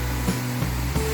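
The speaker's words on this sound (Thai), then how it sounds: "นี่เสียงน้ำตกแบบ" A steady, rushing roar of a waterfall near Vientiane, Laos, continuous and fairly loud throughout, with a low hum running underneath.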